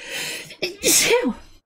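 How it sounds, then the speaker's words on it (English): One close, loud sneeze from a person: a short intake of breath, then a sharp, explosive burst that fades quickly. A little speech-like sound comes just before it. "I gotta sneeze."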